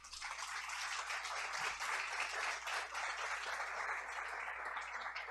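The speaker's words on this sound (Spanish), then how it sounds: "denle un aplauso al Señor" Church congregation applauding during a Sunday service, a steady, even wash of many hands clapping from a little distance, sustained throughout with no talk on top.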